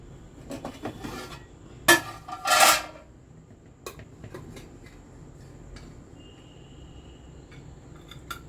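A few metal clinks and scrapes of a serving spoon against a pot as mutton pulao is dished out, with two louder scrapes early on and quieter taps after.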